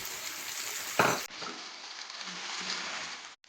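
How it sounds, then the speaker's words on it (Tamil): Onions sizzle and fry in hot oil with garlic, green chillies and curry leaves, a steady bright crackle with a brief louder burst of stirring near the start. "ஸோ இந்த வெங்காயம் கொஞ்சம் லேசாக வதங்கட்டுக்கு."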